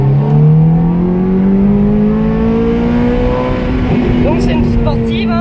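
A Ferrari F430 accelerates around a racetrack at Le Vigeant, its engine note rising steadily from inside the cabin as people talk over the loud, continuous drone.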